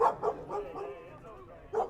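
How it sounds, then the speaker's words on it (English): Several dogs bark behind a baseball broadcast booth at a Ventura County Buccaneers versus Arroyo Seco Royals game, a run of quick nearby barks at the start and another burst near the end, with a low murmur of voices under them. "Looks like we have a few dogs introducing themselves"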